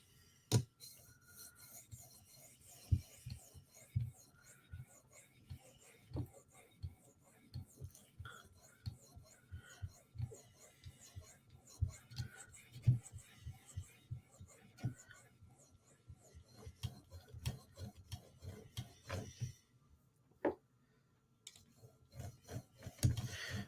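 Tanto M4 knife in PM2 steel being sharpened on a 2000 grit stone, a quiet rhythmic rasp of repeated strokes with soft ticks, close and faint, with low speech at times.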